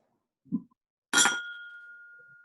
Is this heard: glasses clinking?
yes